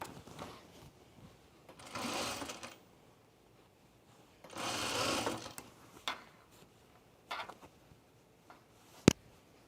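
A sewing machine top stitches and backstitches the inseam of a pair of Cosecha pants in two short bursts of running stitches, separated by quiet pauses and followed by a few light clicks and handling taps.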